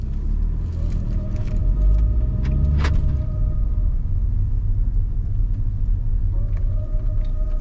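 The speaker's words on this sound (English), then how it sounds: "just to show you it's live, I'm going to drive forward a little bit" A Saab 9-3 car creeps forward slowly with a steady low rumble from inside the cabin, a faint whine, and a brief click partway through.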